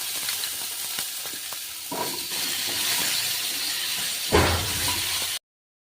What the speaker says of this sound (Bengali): আলুগুলি ভাজা হয়ে এলো। সাথে চৌকো করে কেটে ধুয়ে রাখা কুমড়োগুলি দিয়ে দিচ্ছি।